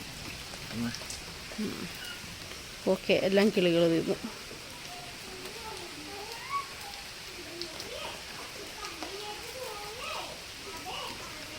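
Light rain falls steadily as a soft, even hiss in the background while people talk over it, with a brief burst of louder voices partway through.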